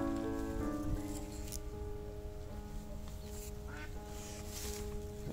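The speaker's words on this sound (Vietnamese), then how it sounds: "Mấy con vịt này" Ducks quack repeatedly by a river where carp are fished, with the calls close and clear over a steady background of rushing water or rain-like patter.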